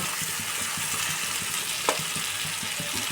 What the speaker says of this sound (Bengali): আলুটা আমি নুন হলুদ দিয়ে ভালো করেই ভেজে নেব